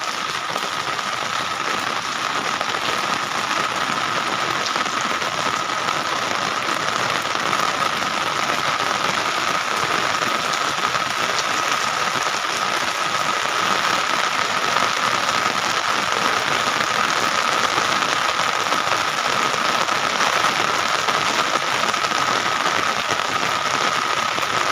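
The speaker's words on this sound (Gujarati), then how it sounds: "ઘણો બધો વરસાદ આવ્યો" Heavy rain pours down outdoors in a steady, dense hiss with no pauses, loud and even for the whole stretch, with no voices.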